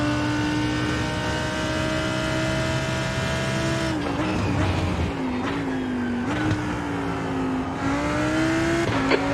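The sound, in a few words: race car engines in IMSA racing game at Red Bull Ring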